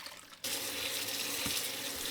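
Tap water suddenly starts running over salted napa cabbage being rinsed in a sink, a bright, steady close-up gush that continues evenly after the abrupt start.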